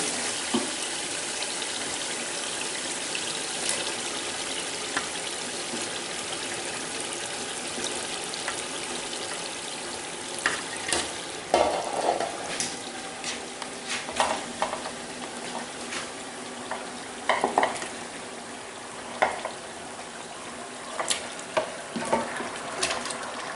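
Chicken with masala fries in a karahi, giving a continuous wet sizzle with intermittent clanks and scrapes of a spoon stirring against the metal pan, steady and close without talk.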